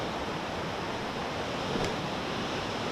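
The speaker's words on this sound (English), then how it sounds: "We're at the second waterfall." A waterfall on the Four Waterfalls walk in Wales gives a steady, even rush of falling water, a constant broadband roar that holds unchanged throughout, with no talking.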